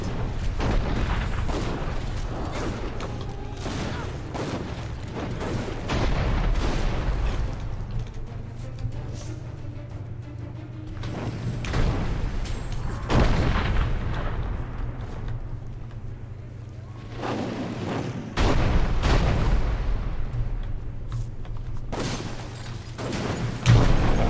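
Cannon fire in the video game Dungeon Siege 3, loud repeated booms and thuds in a dense battle mix over a steady low drone, with scattered impacts throughout.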